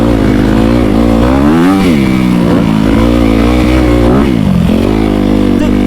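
Dirt bike ridden off-road on a motocross track, recorded up close; the engine drones loudly and steadily, with rising and falling revs as the rider throttles through the terrain.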